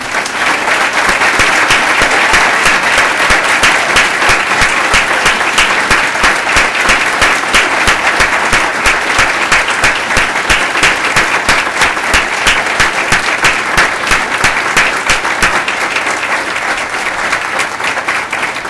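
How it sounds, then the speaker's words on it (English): Sustained, steady applause fills a school board meeting, a dense wash of many hands clapping without pause for nearly twenty seconds, loud and close with no talk over it. "we honor them, if you please, with a wondrous round of applause"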